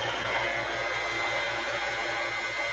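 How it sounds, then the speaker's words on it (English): A vacuum pump on a woodturning lathe, used while hollowing a mesquite bowl, runs with a continuous loud hiss and a low, evenly pulsing throb throughout. "I'm going to test my vacuum pump real quick,"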